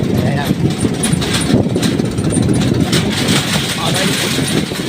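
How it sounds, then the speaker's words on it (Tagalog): A motorcycle with a sidecar (kolong) rattles and clatters loudly nearby, its engine droning with a dense, jittery mechanical knock throughout while a person talks over it. "ang ingay naman yung kolong natin"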